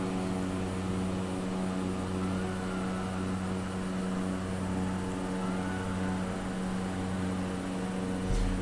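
Steady drone of a simulated TBM turboprop engine in flight, a constant loud hum with layered tonal whine that holds unchanged throughout, no voices.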